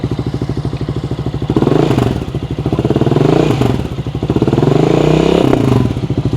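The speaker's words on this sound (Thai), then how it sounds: "มาฟังเสียงท่อกันหน่อยดีกว่านะครับ ว่าเป็นไงกันบ้างนะครับ นี่ฮะ นี่ครับ เดี๋ยวบิดให้ดูนะฮะ" A Honda ADV350 scooter engine idles with a fast putter, then revs up twice in swelling bursts before settling back, close and fairly loud.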